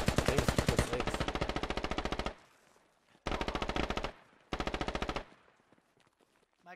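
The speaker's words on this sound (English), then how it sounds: "Where's that fire coming from?" Machine gun fire in the video game Squad: three long rapid bursts of close, loud automatic shots separated by short pauses and a faint tail of echo.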